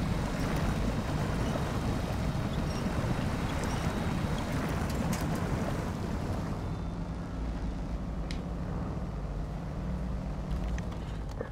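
In the SnowRunner video game, a truck engine runs while submerged in water, heard as a steady, broad rushing and churning with a low rumble beneath it, continuous and fairly close throughout.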